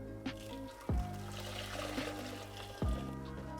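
Vanilla custard (crème anglaise) poured through a small sieve, with faint soft trickling and liquid dribbles and a couple of low thuds, quiet and close.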